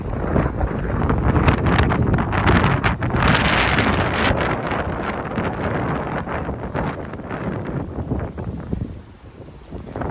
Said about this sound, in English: Oh yeah, it's windy, people.